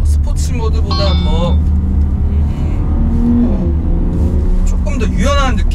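Porsche Panamera 4S driving in Sport Plus mode, a steady low engine rumble running beneath continuous talking from the cabin.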